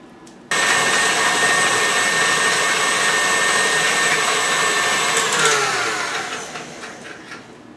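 An electric mixer creaming butter and sugar for vegan sugar cookies: a steady loud whir that starts abruptly, holds for about five seconds, then slows and fades as the motor winds down.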